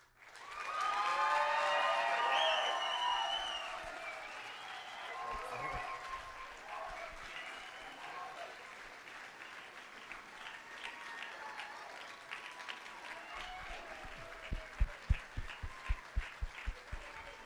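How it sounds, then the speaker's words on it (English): Audience applause rises for graduates at a university convocation ceremony, a dense sustained roar of clapping with some voices, fading over time into scattered claps and a few louder individual claps near the end. "give you one big round of applause"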